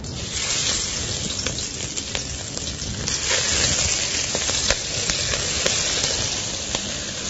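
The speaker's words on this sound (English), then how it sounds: "And now prawns go in." Prawns hit hot vegetable oil in a pan for a prawn curry, setting off a loud, steady sizzle with crackling pops that carries on without a break.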